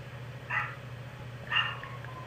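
Indoor dog giving two short, soft barks about a second apart, fairly faint against a steady low hum of room noise.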